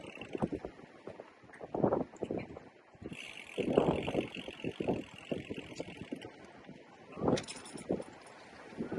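Wind by the sea at a Barcelona half Ironman event buffets the microphone in loud, uneven rumbling gusts, with people talking intermittently underneath.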